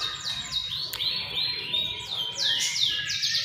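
A white-rumped shama (murai batu) sings a run of clear, sweeping whistled phrases and chirps, loud and close, with no talking.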